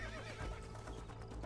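A horse whinnies loudly in the video game Red Dead Redemption, a drawn-out neigh over a dense, noisy backdrop with faint hoof clatter.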